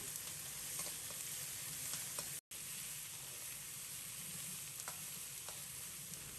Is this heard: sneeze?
no